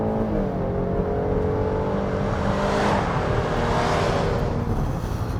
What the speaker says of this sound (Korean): V6 엔진이 탑재되어 있는 만큼 상당히 우렁찬 그런 엔진음을 들을 수 있어서 좋습니다